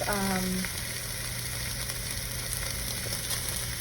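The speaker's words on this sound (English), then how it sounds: "saute and brown both sides" Chicken cutlets sauté and brown in a pan for slow cooker fajitas, giving a steady close sizzle and frying hiss that runs unbroken throughout, with no talk over it.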